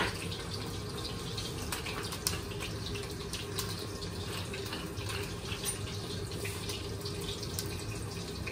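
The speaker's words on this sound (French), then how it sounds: "on va le nourrir, notre carré, avec ce beurre mousseux qui chante" Foaming butter sizzling in a pan while a rack of pork sears, a continuous dense crackling hiss, close and steady throughout with no voice.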